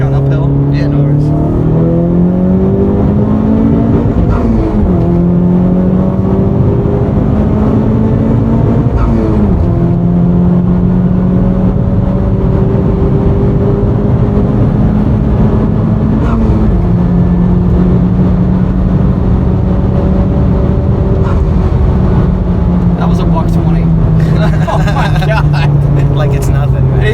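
A Honda Civic Type R pulls hard uphill in second gear, its engine note climbing steadily and loudly with a few brief dips, close and continuous throughout.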